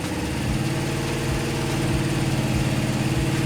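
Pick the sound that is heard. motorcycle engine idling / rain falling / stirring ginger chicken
motorcycle engine idling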